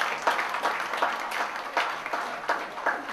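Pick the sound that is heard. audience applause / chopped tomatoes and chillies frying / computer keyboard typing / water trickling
audience applause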